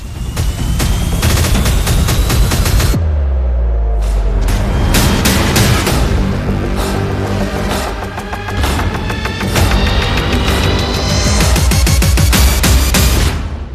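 Missile strikes in Adana, Turkey, recorded by civilians: a loud, dense barrage of blasts, bangs and rapid gunfire-like cracks, with a brief gap near the start, then continuous explosive bursts to the end.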